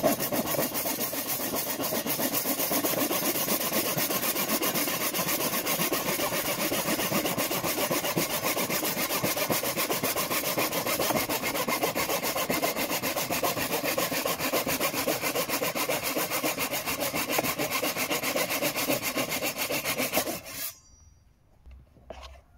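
Hand saw cutting through ash wood for an axe handle, a continuous close rasping of rapid back-and-forth strokes for about twenty seconds before stopping abruptly, leaving quiet room noise.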